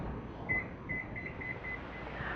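Kitchen oven control panel beeping while being set to preheat to 350 degrees Fahrenheit, a series of about six short, evenly spaced electronic beeps over a steady low room hum.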